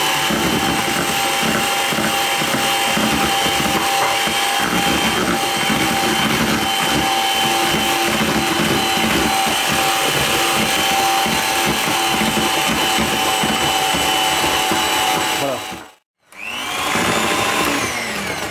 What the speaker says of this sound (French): je vais fouetter pendant à peu près 3 minutes pour bien serrer mes blancs